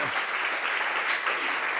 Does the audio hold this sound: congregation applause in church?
yes